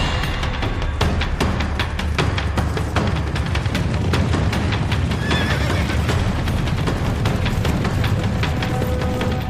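Wild Mustang horses neigh and whinny repeatedly over a dense, continuous pounding of galloping hooves, loud and close, as a herd runs across open plains.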